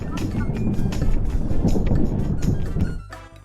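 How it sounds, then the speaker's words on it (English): Strong wind roars and buffets against the microphone in one continuous loud blast that cuts off abruptly near the end. "The strong wind blew their roof away"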